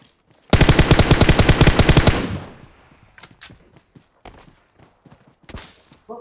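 A long rapid burst of automatic gunfire sounds in a shooting video game, loud and close, cutting off after about two seconds, followed by scattered footsteps, clicks and single sharper shots.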